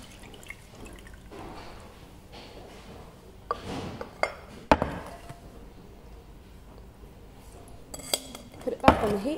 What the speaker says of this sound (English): I'm now going to strain it through a sieve into a clean saucepan.